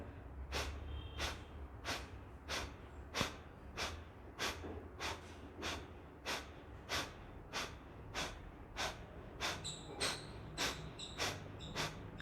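In a pranayama breathing exercise, a person forcefully exhales through the nose in short, sharp bursts at a steady, quick rhythm, close and alone, with about twenty puffs evenly spaced.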